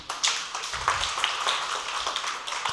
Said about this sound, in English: Please give a round of applause for him from the Faculty of Science.